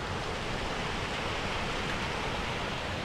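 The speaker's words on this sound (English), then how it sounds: "Little mini waterfall down there and another one up above it." A small waterfall beside the Rainbow Falls Trail to Mt. LeConte in the Smoky Mountains gives off a steady, even rush of falling water that fills the whole moment without any voices.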